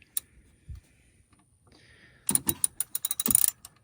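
A hand ratchet clicks on the serpentine belt tensioner of a Dodge Ram pickup, a quick run of close, crisp ticks following a few scattered knocks and a brief squeak.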